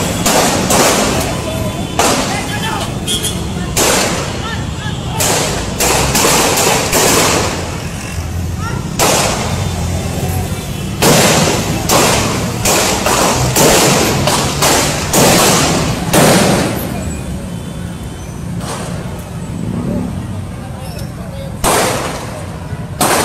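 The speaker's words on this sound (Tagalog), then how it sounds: "Medyo kanina pa po yung nagbabarilan" Repeated gunfire from people shooting outside an Ever shopping mall, loud broadband bursts recurring irregularly over a low rumbling background, with voices also present.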